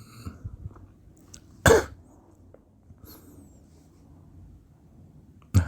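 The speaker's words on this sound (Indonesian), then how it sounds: "Nah, nggak kok, cuma batuk hausnya doang." Two sharp, close coughs from a drowsy man on a phone call, one near the start and one at the end, separated by quiet breathy stillness.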